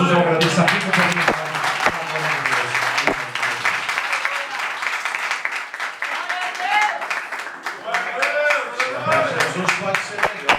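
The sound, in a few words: church congregation applauding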